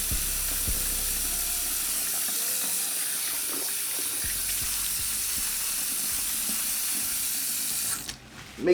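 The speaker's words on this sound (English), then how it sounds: "I'm gonna just wash my hair with my fingers first." Hair being washed with fingers under running water: a steady hiss of flowing water with faint rubbing and scrubbing, alone without talk, ending in a brief louder splash.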